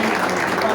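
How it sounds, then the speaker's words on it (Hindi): Audience at a memorial event clapping to welcome honored guests, a dense continuous wash of applause with crowd murmur, brief and fairly loud. "जोरदार तालियों से"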